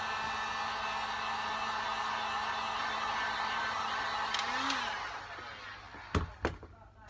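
A heat gun blows steadily as it heats EVA foam for a sculpted muscle torso, a loud close airy roar lasting several seconds that fades out and gives way to a few soft thumps and knocks.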